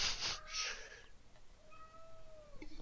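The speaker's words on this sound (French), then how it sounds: "Oui, enfin, il y a mon chat aussi" A domestic cat meows a few times in a row, fairly close and clear, with rising and falling tones and a short pause between calls, over faint background noise and no talking.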